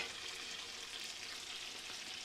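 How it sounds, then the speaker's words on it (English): Mushrooms sautéing in melted butter in a hot pan, giving a steady, even sizzle close up with no talking. "I'm going to saute some mushrooms and put them in the gnocchi as well."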